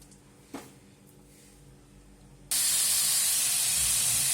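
After a quiet moment with a small knock, a loud steady sizzle of grated bottle gourd hitting hot oil seasoned with asafoetida and turmeric starts abruptly and continues evenly to the end.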